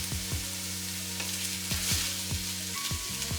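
Sausage frying in a pan for beef baked beans, giving a quiet sizzling hiss over a low steady hum, with a few soft knocks. No talking.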